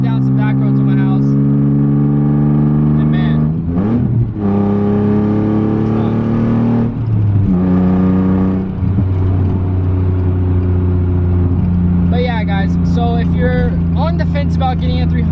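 A Nissan 300ZX sports car drives along back roads, its engine note rising and falling through several gear changes with a steady in-cabin drone, while a person talks over it.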